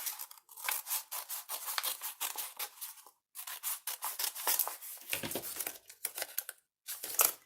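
Scissors snip and crunch through the cardboard of a tissue box at close range, a steady run of crisp cutting strokes broken by two short pauses.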